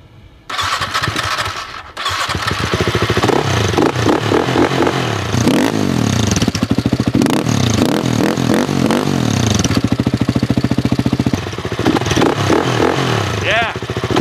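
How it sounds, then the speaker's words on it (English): A 2009 Husqvarna TE 450 dirt bike with a 449cc water-cooled single-cylinder thumper engine cranks, catches and fires up, then idles with a loud, close, lumpy beat and is revved in repeated throttle blips. "The Husky has a 449cc engine that puts out 46 horsepower."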